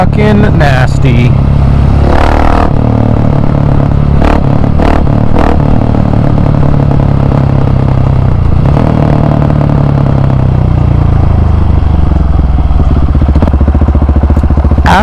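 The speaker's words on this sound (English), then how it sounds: "Getting some audio of how that beautiful aero pipe sounds, because it sounds fucking nasty" A KTM 701 Supermoto with an aftermarket aero exhaust pipe rumbles loudly up close during a daily ride, its engine droning with clattering bursts and throttle changes while a person talks at times.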